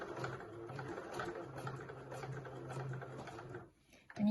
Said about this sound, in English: you're sewing through your jacquard, your zip tape and your lining